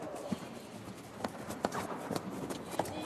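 Two stallions clip-clop around a circus ring during rehearsal, their hooves striking in a steady rapid rhythm of clear thuds over a busy indoor background.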